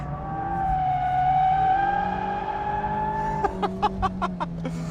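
A Mazda MX-5 GT RS engine on a race track holds a loud, rising harmonic drone through most of the stretch, then breaks into a quick series of sharp rhythmic pulses near the end.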